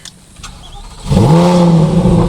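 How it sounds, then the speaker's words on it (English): A sports car engine cold start: it cranks and fires up, jumping into a loud, rising rev before settling into a strong, steady idle close by. "Y'all want to hear cold start? Let's do a cold start for you."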